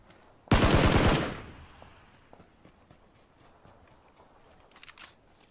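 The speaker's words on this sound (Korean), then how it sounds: "아, 저거 지금 쏜다" A loud, close burst of automatic gunfire in PUBG (Battlegrounds) lasting under a second, followed by faint scattered shots and footstep-like clatter, with no talk.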